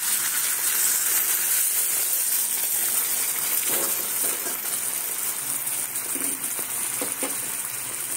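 Hot water is poured into a pan of sizzling vegetable curry made with drumsticks and mixed vegetables, giving a steady loud hiss and gushing sizzle with no talk.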